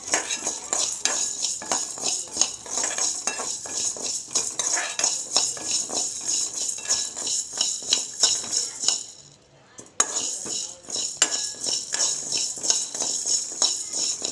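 Sago pearls are roasted in a pan over low heat, with a dense, continuous rattling and scraping of the pearls and a utensil against the metal, loud and close, briefly stopping before resuming.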